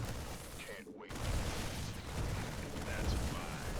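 Marines focus-firing in StarCraft 2 make dense, continuous rapid gunfire crackle with a brief dropout near the one-second mark, loud and unbroken otherwise.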